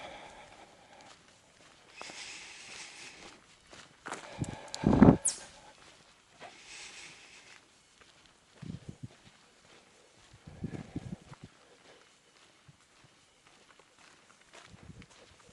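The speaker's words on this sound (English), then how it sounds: "the sound of your footsteps, kind of like this" Footsteps along a hiking trail on the Appalachian Trail, an irregular series of soft crunching steps with a louder scuffing burst partway through, close and quiet against a still outdoor background.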